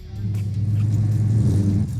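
A vintage car, kept original apart from paint, interior and under-hood work, idles steadily as it warms up, its close, loud, low engine rumble running without a break.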